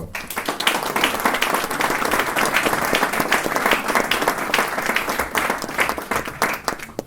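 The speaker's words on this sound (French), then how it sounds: "Merci à elles, je pense qu'on peut les applaudir." At the inauguration of a local housing centre, an audience breaks into steady, dense applause close by, continuous clapping that holds for several seconds with slight swells in loudness.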